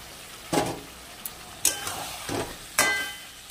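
Green jackfruit tossed into a pan of sizzling spices for a vegetarian jackfruit curry, with a few scraping, clattering stirring bursts over a faint, steady fry.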